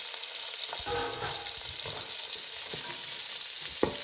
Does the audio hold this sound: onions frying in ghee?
yes